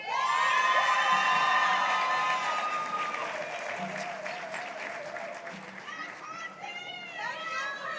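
Applause and cheering from a crowd at a sheriff's office promotions ceremony, steady clapping mixed with whoops and high-pitched shouts, loud at first and continuing throughout.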